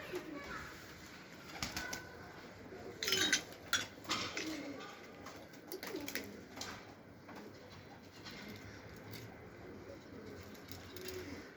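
Smoky-coloured domestic pigeons coo softly and intermittently, with a few brief flurries of wing flaps in a quiet outdoor setting.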